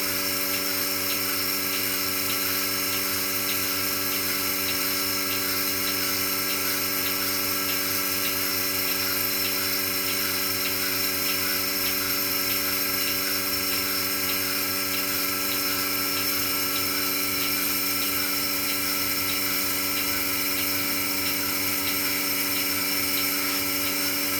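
A BARBAROS cow milking machine runs steadily, a loud unbroken mechanical drone with a high whine and faint rapid ticking that holds constant throughout.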